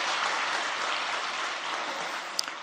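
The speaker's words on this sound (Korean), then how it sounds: "우리 하나님께 영광을 박수 돌려드리시겠습니다" At a Korean church's New Year's Eve service, the congregation gives steady, even applause, a soft, unbroken hiss of many hands clapping that stays level to the end.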